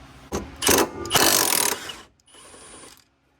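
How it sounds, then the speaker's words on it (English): Ratchet wrench working a nut on the rear control arm of a Mazda Miata, close by: a few bursts of rapid clicking, the middle stretch longest, then a quieter run of clicks before stopping. "I got a wrench on the inside one here. I'm ratcheting the nut."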